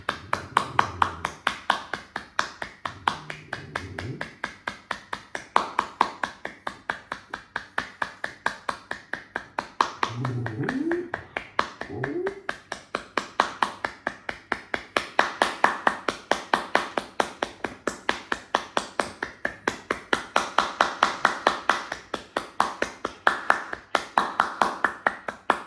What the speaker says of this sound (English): Now breathe out and clap.